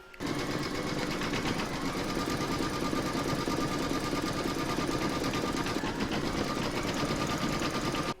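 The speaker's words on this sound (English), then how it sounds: "You're now going to pop this into your machine and stitch round number 2" An embroidery machine stitching an in-the-hoop fabric bag project runs with a steady, fast mechanical whir and rapid needle chatter, continuous and close throughout with no talking.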